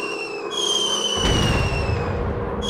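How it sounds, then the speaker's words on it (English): A dropped bomb exploding on a tank in the World War I flying game Warplanes WW1 Sky Aces: a loud low blast rises over a steady engine drone and holds as a rumbling roar. "Bomb away! Tank just got busted!"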